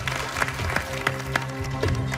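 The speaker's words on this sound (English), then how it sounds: "Give yourselves a round of applause." Contestants in a cooking competition kitchen give themselves a short round of applause, a brief patter of claps with a few sharper accents over kitchen ambience.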